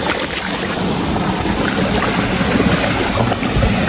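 Water rushing down a stream at a waterfall, a loud, dense, constant roar with a windy hiss, close to the microphone and without voices.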